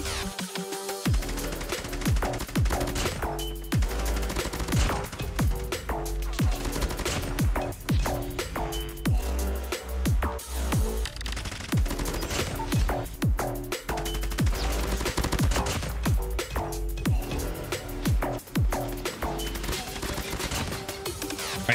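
Rapid bursts of SMG fire in COD Mobile, dense and continuous with sharp repeated cracks packed closely together across the whole stretch, with no pauses of note.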